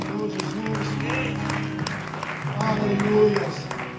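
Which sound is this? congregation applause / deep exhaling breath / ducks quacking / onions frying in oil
congregation applause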